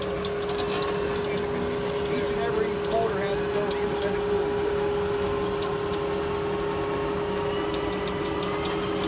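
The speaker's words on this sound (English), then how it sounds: "What you're hearing is cooling fans." Steady whirring hum of a farm robot's cooling fans at an agricultural tech show, with a constant tonal drone and faint ticking clicks, continuous and fairly close throughout.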